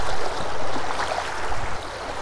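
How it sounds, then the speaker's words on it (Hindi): Strong stream water rushes at Sahastradhara near Dehradun, India, a constant close, loud gushing wash with gurgling and no voices. "ये देख लो भाई इस साइड से आ रहा है पानी।"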